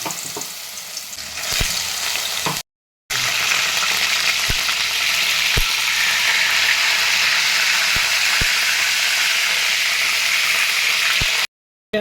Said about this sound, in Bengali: এবার আমি লোটে মাছগুলোকে এক একটা করে ব্যাটারে ভালো করে মাখিয়ে তেলে ছেড়ে দেবো। ডিপ ফ্রাই করবো লো ফ্লেমে।